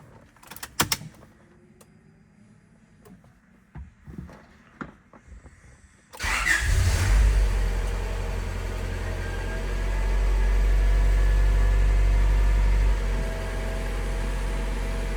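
A Honda Prelude under restoration cranks and fires up, then settles into a steady rough idle close by, after a few clicks and clunks in a quiet garage.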